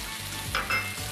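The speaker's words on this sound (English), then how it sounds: "at this stage we just take our wok and tilt it into the sizzling pan" Stir-fry with rice noodles and sesame oil sizzling steadily in a hot wok, a continuous close frying hiss that swells briefly as food is stirred, with no voices.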